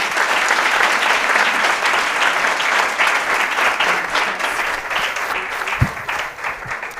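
A talk show audience breaks into sustained applause that fills the room, dense and steady throughout, tapering slightly near the end with a brief low thump.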